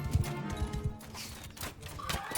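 Horse hooves clip-clopping in the medieval combat game Mount & Blade 2 Bannerlord, a steady rhythmic trot of fairly close, moderate hoofbeats with faint ambient game sound around them.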